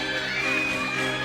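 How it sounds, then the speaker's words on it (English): Gymnastics teammates cheer and whoop for a Missouri gymnast during a college floor routine against Georgia, a steady mid-level crowd roar of shouts with one sustained high whoop running through. "Her team cheering her on"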